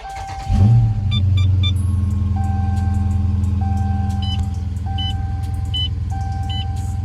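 A Dodge SRT 392 engine cranks and catches with a low rumble, then settles into a steady idle while a chime dings repeatedly and electronic beeps sound.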